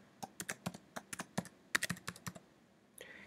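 A password is typed on a computer keyboard: about fifteen quick, close, crisp key clicks in an uneven rhythm, ending in a short pause and a final soft tap, with no talking.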